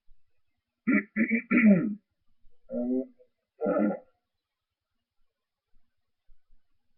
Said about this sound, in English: I gotta clear my throat for a second for this one